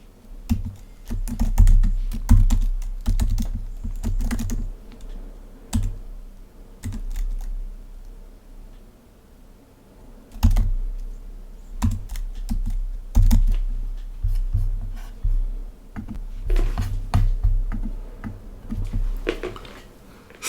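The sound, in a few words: typing code on a computer keyboard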